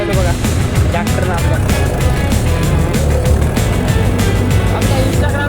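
A tractor engine runs steadily and loudly throughout while it drags a harrow across a field, a continuous close rumble with a rhythmic pulsing beat, and a voice talks over it.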